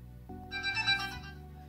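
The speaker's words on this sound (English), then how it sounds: "more like a notification tone." A short electronic notification tone from an HTC Dream T-Mobile G1 phone, a bright cluster of chiming tones rising over a faint low hum, brief and close.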